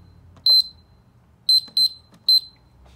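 Four sharp electronic beeps from a Ness alarm keypad as a PIN code is keyed in to disarm the system, one beep then a group of three, clear and close over a quiet room.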